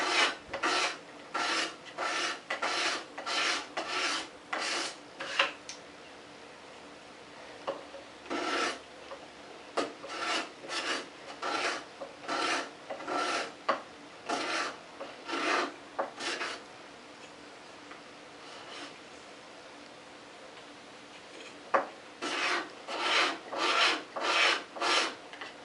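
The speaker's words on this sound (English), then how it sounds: "I'll work on this spot right here where I can bend the scraper and get down in there." Hand scraper pulled across a wooden board in quick rasping strokes, grouped in bursts with short pauses between them, close and fairly quiet with no talking.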